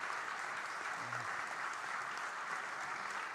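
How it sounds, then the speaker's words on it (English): Steady audience applause fills a hall after a panel discussion on reflections one year after a referendum, dense and even throughout with no voices on top. "Please continue your applause for Geoff, Cleone and Pat."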